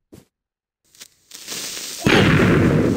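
A Creeper blowing up in Minecraft: a loud, sustained burst of broadband noise sets in after a few faint clicks and a short build-up, and it holds until the clip ends, with no one talking.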